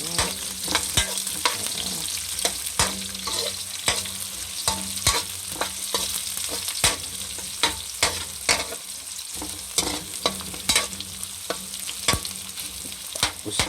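Garlic and onion sauté in hot oil in a pan for tinola chicken, a steady close sizzle broken by frequent sharp clicks and scrapes of stirring, with no voices.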